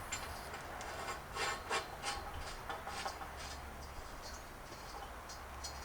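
A reducer bushing is hand-tightened onto a pole pipe, giving soft rubbing and scraping turns in a few brief bursts, close by but faint over a low steady background.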